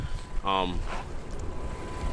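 Gusty wind buffets the microphone with an uneven low rumble, and a brief voice-like sound rises partway through.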